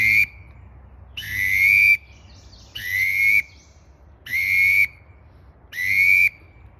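A widgeon whistle blown to mimic a pintail duck, giving four soft, slow, rising trilled whistles at steady intervals, close and clear with no talk.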